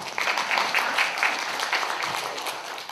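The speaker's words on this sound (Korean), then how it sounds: "박수 한번 치실까요?" An audience at a seminar for academy directors claps together, a dense, even burst of applause that holds steady for a few seconds, near and moderately loud.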